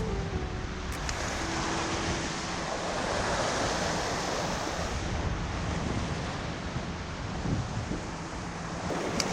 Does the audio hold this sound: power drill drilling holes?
no